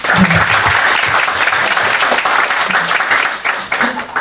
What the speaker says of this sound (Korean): 박수를 좀 보내주십시오